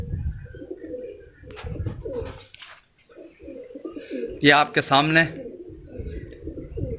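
Pigeons cooing in a fancier's loft, including prized birds named Sherni and Commando, with soft coos and a brief burst of bird calls near the middle, mostly under someone talking.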